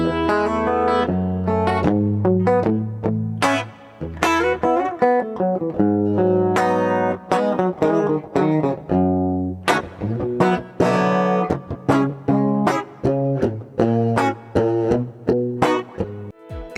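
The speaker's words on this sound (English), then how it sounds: "I got a little plate reverb and a little studio EQ to give my guitar a little pop" Electric guitar through plate reverb and studio EQ playing a melodic line of picked notes and chords, with a spacious reverb tail ringing after each phrase.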